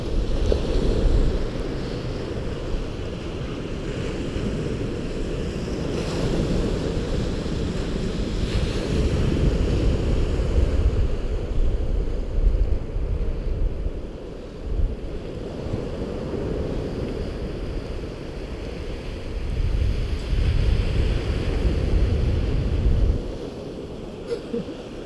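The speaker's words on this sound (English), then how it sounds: "The waves, you see? Quite a big." Big ocean waves break and wash ashore at Knokke-Heist on the Belgian coast, a loud rolling roar that swells and fades in surges, mixed with heavy wind buffeting the microphone.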